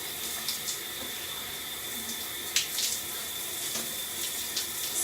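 Water runs steadily in a shower while hair is rinsed and scrubbed, a soft continuous hiss with faint splashes and small clatters, quiet and without voices.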